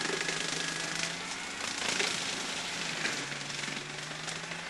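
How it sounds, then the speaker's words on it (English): An early prototype Forest Savers brush cutting and mulching machine runs as a continuous loud, rattling mechanical roar with rapid pulsing, steady throughout with no talking. "Forest Savers' versatile brush cutting and mulching system is far more efficient than cutting brush with saws than feeding the brush through chippers."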